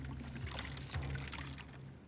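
Water pours steadily in the video game Skyrim, a faint continuous splash at a tavern with no talk over it.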